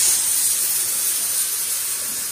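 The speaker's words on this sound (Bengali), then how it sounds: "বাপরে বাপ, যা অবস্থা আমার প্রেশার কুকারের।" A pressure cooker with arhar dal and radish inside lets off a loud, steady steam hiss. The hiss runs unbroken for the whole stretch with no talking.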